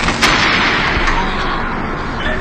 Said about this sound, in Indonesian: Paman Bear pun tertembak oleh Linda.